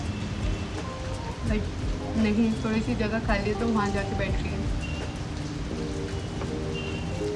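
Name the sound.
rain falling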